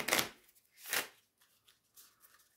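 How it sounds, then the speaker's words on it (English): Oracle deck cards shuffled by hand, riffle and overhand: two crisp, fluttering bursts of card noise in quick succession, then a few lighter slips and taps, close and quiet with no voice. "Give it one more shuffle, one more riffle shuffle, one more overhand."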